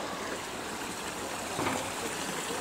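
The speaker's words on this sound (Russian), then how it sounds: "Там, где выходит большое количество воды, родник" Spring water gushing out of the ground at a natural source, a steady broadband rushing and trickling that holds close and even throughout, with no voices over it.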